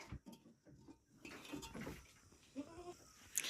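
A goat bleats faintly a few times amid quiet rustling and shuffling, distant and low in level, with no talk.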